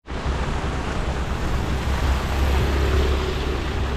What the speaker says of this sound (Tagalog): Lakas pa po ng ulan dito mga kabady. Medyo nawala-wala na yung malakas na hangin, pero meron pa rin siya.